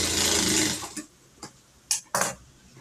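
A sewing machine stitches fabric for a dress lining, running in one steady close burst before stopping, followed by a few sharp mechanical clicks.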